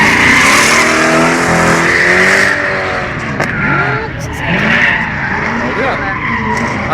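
Two or more cars drifting on a track, tires screeching in long loud skids while engines rev and whine up and down, close and continuous with a brief lull midway.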